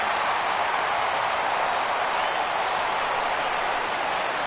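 A baseball stadium crowd rises and roars at a 3-2 count, a steady, dense wall of cheering noise that holds unbroken for several seconds.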